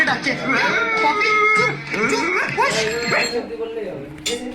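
A person vocally imitates a pregnant dog's bark, giving a run of whiny, yelping calls with rising and falling pitch that carry on for several seconds, close and fairly loud.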